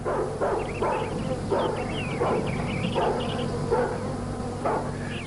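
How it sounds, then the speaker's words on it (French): A farm dog barks repeatedly, sharp yips and bow-wows coming in irregular bursts, fairly close and loud over a steady outdoor background. "C'est juste un chien de ferme"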